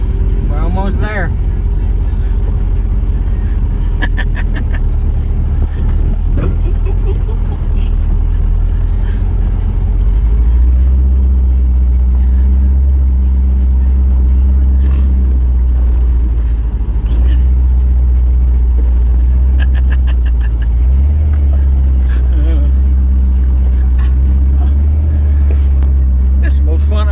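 A 2006 Chevy Colorado with a swapped 4.8 LS engine drives over off-road terrain with a steady, deep engine rumble and occasional rattles, while people talk over it throughout.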